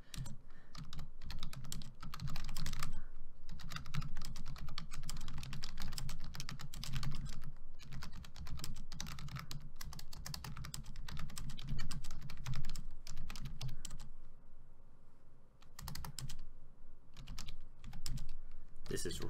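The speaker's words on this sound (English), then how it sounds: "Start that typing test." Rapid typing on a computer keyboard during a typing test, a dense continuous clatter of keystrokes running the whole time, close and steady, with a brief lull near the end before the tapping resumes.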